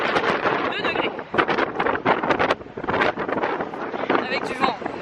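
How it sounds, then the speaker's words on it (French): Gusty wind buffets the microphone in steady roaring bursts while people talk over it outdoors in Manhattan at 2 degrees Celsius. "Avec du vent."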